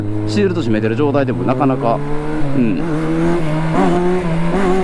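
Kawasaki Zephyr 1100 with FCR carburettors and a baffled exhaust, engine note rising and falling steadily while riding, heard continuously under a rider's ongoing talk.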